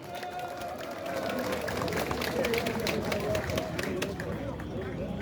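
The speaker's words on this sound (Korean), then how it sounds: "그분들에게 큰 박수 한번 해주시기 바랍니다" A rally crowd applauds at a gathering opposing a Marine Corps special counsel, the clapping steady and dense for several seconds, rising slightly after the first second and holding at an even, fairly distant level.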